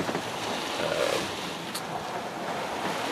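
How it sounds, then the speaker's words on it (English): Steady wind and breaking waves hit a sailboat on the beam about two miles offshore near Fort Lauderdale, a continuous loud rush of wind noise and surf with rocky water sloshing close by. "Both the wind and the waves have been hitting us on the beam,"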